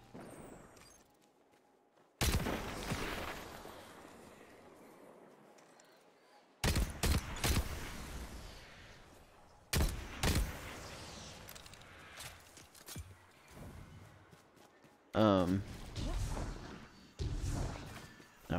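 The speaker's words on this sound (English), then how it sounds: "Oh, someone's shooting at me." Gunfire aimed at the player in a sword-wielding video game: several sharp, loud impacts spaced a few seconds apart over a low game ambience, the later ones coming in quicker bursts.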